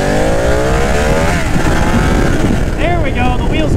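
A Ducati motorcycle engine drones loudly and steadily while riding on a road with loose gravel, its pitch climbing under acceleration amid heavy wind rush; someone talks over the engine.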